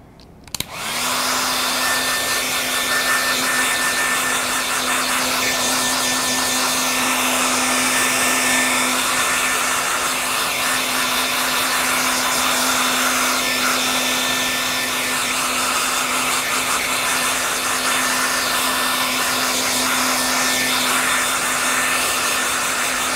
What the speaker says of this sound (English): I'm going to dry this off with my hair dryer.